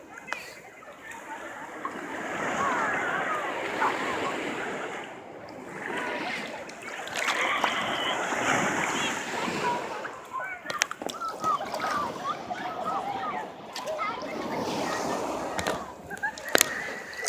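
Water sloshes and laps in uneven waves around someone floating, with soft splashes rising and falling over several seconds while a person talks.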